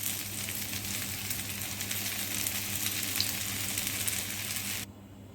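Sabudana and potato balls shallow-fry in oil over a low flame, giving a steady, close crackling sizzle with a constant low hum beneath, cutting off abruptly near the end.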